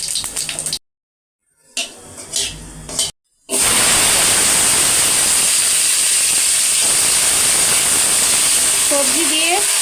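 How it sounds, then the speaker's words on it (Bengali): Tempering spices dropped into hot oil for a pumpkin greens dish with papaya, potato and pointed gourd burst into a loud, close, steady hiss after a few broken-off moments of near silence. "ফোড়ন দিলাম।"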